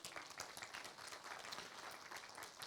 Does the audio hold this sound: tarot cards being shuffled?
no